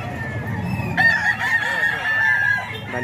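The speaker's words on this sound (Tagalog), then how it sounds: "Manok naman to mga ka-idol ni Kuya Rick." A rooster belonging to Kuya Rick, one of a pair of pumpkin-colored gamefowl in Bocaue, lets out a single loud, drawn-out crow over a low crowd hum.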